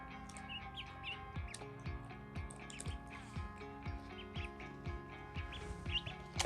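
Several small ducklings peeping indoors in a warm living-room setup, high thin chirps repeating over a busy background of steady tonal hum and occasional drips or splashes.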